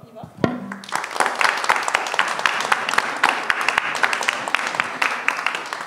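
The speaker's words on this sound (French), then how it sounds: "Nous, on va vous applaudir." A crowd at a school event applauds after a single sharp clap, with sustained, dense clapping that stays loud throughout and carries some voices.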